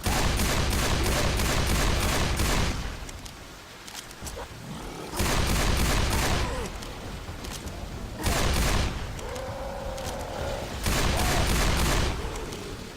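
Rapid bursts of gunfire in Left 4 Dead 2 during a Lone Gunman mutation on Hard Rain, loud sustained volleys of shots broken by short quieter gaps, with game ambience between bursts.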